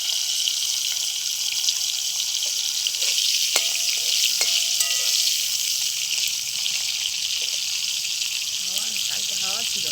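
Bitter gourd slices frying in hot oil with a little salt, a steady, close hiss of sizzling throughout, punctuated by a few clicks of stirring, with a voice briefly speaking near the end.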